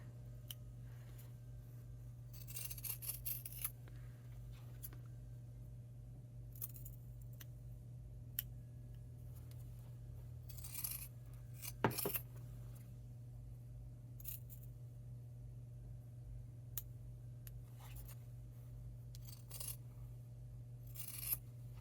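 Scissors snip through fabric in short, scattered bursts, quiet and close, with pauses between the cuts.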